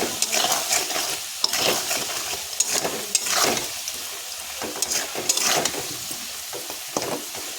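Snakehead fish frying in a pan with turmeric and salt, stirred with repeated scraping strokes of a utensil over a continuous sizzle, close and fairly loud.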